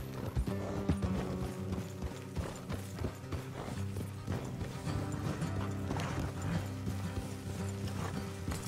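Horses' hooves clip-clop steadily in Red Dead Redemption 2, a dense stream of overlapping hoofbeats joined by faint mechanical rattling and creaks from tack, with no talk.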